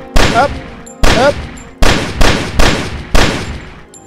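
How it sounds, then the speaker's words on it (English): Loud gunfire fills the Only If video game as six sharp shots or short bursts crack in an uneven rhythm, each ringing off with a brief decaying tail, close and alone without speech. "Well, then lots of bullets."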